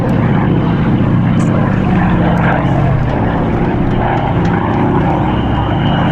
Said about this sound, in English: Watch now as the C-47 gets ready to pass here at Show Center.